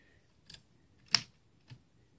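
An antique Woodstock typewriter from a yard sale, with three sparse, separate key strikes ringing out as sharp metallic clacks in a quiet room, the middle stroke the loudest.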